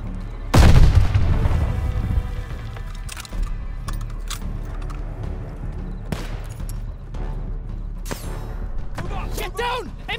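Gunfire and artillery boom through a Call of Duty: Vanguard battle, opening with a heavy loud blast followed by scattered rifle shots and impacts over a constant rumbling din.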